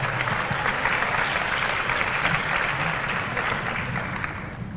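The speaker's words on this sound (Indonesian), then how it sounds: "Sekali lagi beri tepuk tangan yang meriah." An audience at a question-and-answer session with Jakarta student council leaders claps in sustained, dense applause that stays loud, then eases slightly near the end.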